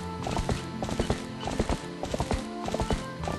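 A horse gallops in Zelda: Twilight Princess, its hooves making a quick, steady clip-clop rhythm that runs through the whole stretch at moderate volume.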